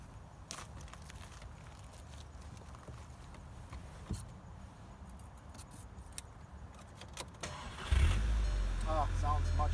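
Quiet shuffling and light clinks, then a MK6 VW GTI engine cranks and catches near the end, after ignition coil and spark plug replacement, settling into a loud, steady idle.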